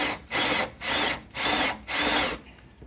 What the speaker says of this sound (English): he also has to drill out the control arm bolts to a little bit bigger size